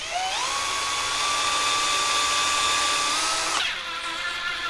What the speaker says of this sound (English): slightly drill it.